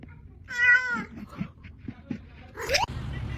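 Cat meowing: one clear, drawn-out meow near the start, some quieter rustling, then a short rising second meow near the end, all close and fairly loud.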